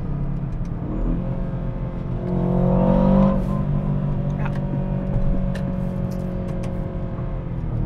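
An Aston Martin DBX 707 SUV engine hums and swells in a steady drone, building to a louder throaty surge before settling back to a moderate cruise, heard from inside the car.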